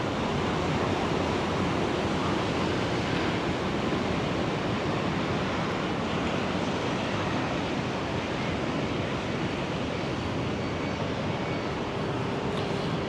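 Waves break on a beach in Da Nang during the rainy season, a dense continuous roar of surf with wind, loud and steady with no pauses and no voices.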